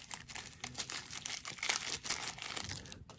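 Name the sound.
plastic bag crinkling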